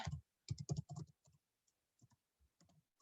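Fingers type on a computer keyboard, a close, quiet run of clustered key clicks in short bursts with brief pauses between them.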